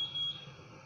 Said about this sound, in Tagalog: iyon yung alarm ko.